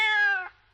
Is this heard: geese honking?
no